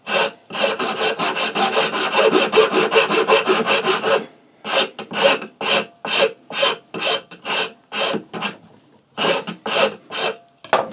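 A Shinto saw rasp scrapes wood in long strokes, first a rapid steady run of short rasping passes, then slower, evenly spaced separate strokes with brief gaps, close and loud.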